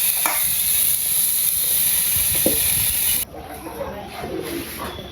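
Taro stolons fry with onion and chili in a steady, close sizzle with a few stirring scrapes, then the sound drops suddenly and grows quieter and rougher toward the end.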